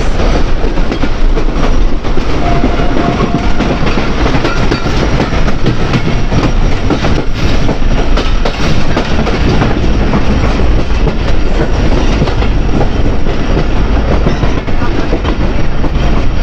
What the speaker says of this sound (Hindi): हमारी 48 डाउन रहमान बाबा एक्सप्रेस पहुंचने वाली है महरामपुर रेलवे स्टेशन पर